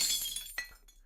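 A brick thrown through a drugstore window during a street riot shatters the glass in a sharp, close crash, followed by a second smaller burst of tinkling shards falling away.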